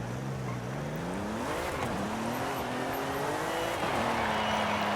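In Forza Horizon 5, a car engine drones and climbs in pitch through gear changes as it accelerates hard, a continuous close engine tone with no talking.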